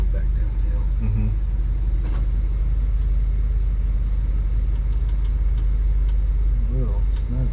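A 1975 Ford F100 4x4 truck on a test drive, its engine a steady low rumble heard from inside the cab throughout, with someone talking over it at times.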